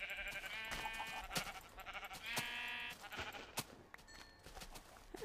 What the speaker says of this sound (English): I gotta do Skitscape a favor and kill this gray sheep